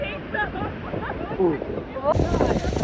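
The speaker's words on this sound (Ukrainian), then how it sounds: "ти просто в епіцентрі водоспаду" Tour boat ride into the spray at Niagara Falls, with steady roaring wind and water rush under excited voices, the roar swelling louder near the end.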